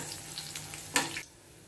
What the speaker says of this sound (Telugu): ఇప్పుడు ఈ పోపు దినుసులు వెల్లుల్లి వేగిన తర్వాత ఒక 2 ఎండు మిరపకాయల్ని తుంచి వేయాలి।